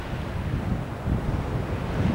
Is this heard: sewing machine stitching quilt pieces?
no